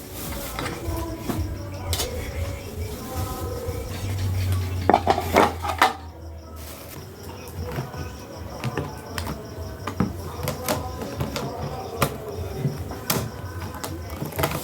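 Container lids and boxes are handled in a kitchen, with scattered clatters, knocks and light metallic clinks, irregular and close, alongside a steady low hum.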